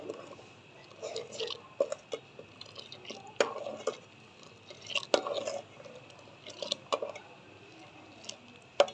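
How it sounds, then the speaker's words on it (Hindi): Sugar stirred into milk in a pot for fruit custard: soft, wet swirling with frequent light taps and scrapes of a spoon against the pan, close but quiet. "अब मैं इसको हिलाऊँगी,"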